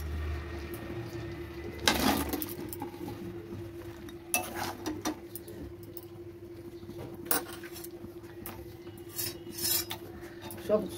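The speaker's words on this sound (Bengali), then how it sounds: "এবার আমি সব সয়াবিনগুলো দিয়ে দেবো" Soybean pieces tipped into a pan of simmering cornflour-thickened sauce for chili soyabean, followed by intermittent scraping and stirring with a utensil; several sharp clatters and rasps over a low steady background, no talk.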